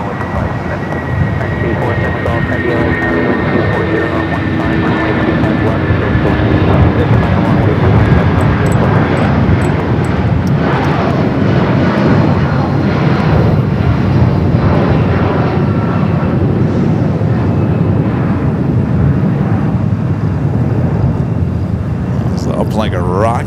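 An airliner roaring down runway 24 left at Los Angeles International Airport on takeoff, a loud, sustained jet rumble close by that holds steady throughout, with someone talking faintly beneath it.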